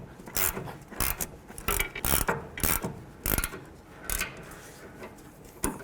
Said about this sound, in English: then we're going to use our ratchet wrench 18 and we'll tighten this up